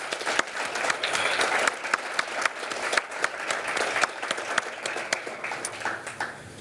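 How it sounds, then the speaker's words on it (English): An audience at the Middlesex West Chamber of Commerce 30th annual meeting applauds John with steady, dense clapping that holds at full strength for several seconds and then thins slightly toward the end. "But I want to give John a big round of applause too"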